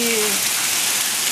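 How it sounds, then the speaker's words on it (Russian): Heavy rain pours outside after a hailstorm, a dense, constant hiss that fills the moment. A voice briefly sounds at the start. "Град прошел, но дождь все так же идет."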